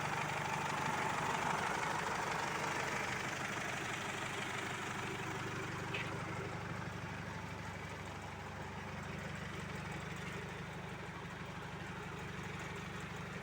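A Toyota Sport Rider pickup fitted with an Isuzu D-Max 3000 diesel engine idles steadily at close range, a continuous low rumble with a faint mechanical clatter running unchanged throughout.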